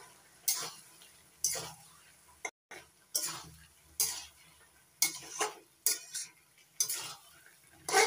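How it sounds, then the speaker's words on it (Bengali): Fried spice paste ground on a grinding stone is stirred into Malabar spinach and prawns in a pan, close repeated scraping strokes of a spatula at an irregular rhythm over a faint sizzle. "ভাজা মশলাটা মিশিয়ে নিচ্ছি সবজির সঙ্গে।"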